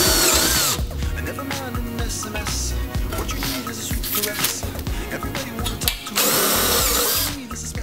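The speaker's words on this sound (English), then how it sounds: "And then I'm gonna open it up with a step bit." Step drill bit boring a hole in a fuel tank: a power drill whines and grinds steadily and loudly, with brief pauses and changes in load as the bit cuts through, with no voices.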